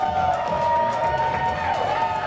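A wrestling crowd in Kansas City, Kansas cheers and roars steadily for Jessica James entering the ring, a dense, continuous wash of voices with a sustained tone running underneath.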